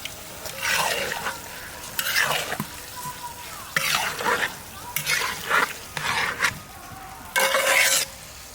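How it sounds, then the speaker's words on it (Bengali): Soaked rice goes into a sizzling pot of spiced aloo pulao with mint, coriander and fried onions, and a spoon scrapes and stirs it in repeated bursts over a low frying hiss. "এবার ভেজানো চালটা দিয়ে দেবো।"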